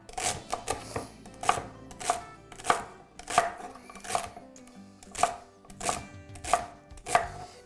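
A knife chopping celery on a cutting board, a steady series of crisp close knocks about one every half second to second, with no voices.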